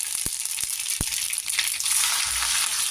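Cumin and mustard seeds spluttering in hot oil, a close, bright sizzle broken by several sharp pops and crackles at irregular intervals.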